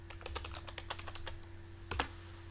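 Quick run of keystrokes on a computer keyboard typing a folder name, close and quiet, a rapid burst followed by a pause and a final couple of heavier key presses, no talking.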